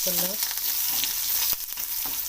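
Onions fry in oil in a pan, browning with a dense, constant sizzle and a few sharp stirring knocks, up close for a couple of seconds without speech.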